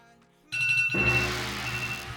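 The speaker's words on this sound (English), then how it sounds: "my phone decided to ring there" A phone rings up suddenly after a quiet moment, a bright electronic trill that keeps going steadily at close range.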